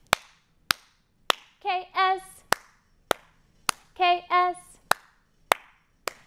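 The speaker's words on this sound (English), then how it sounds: "Now we're up to four claps." Sharp single hand claps, close and evenly spaced, keep a steady beat during a children's reading song, with sung phrases in between.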